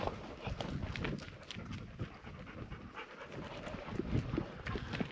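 Dogs panting in the heat out on a ride in dry canyon country, a steady rapid huffing close by, mixed with hoof clops and footsteps; no talk.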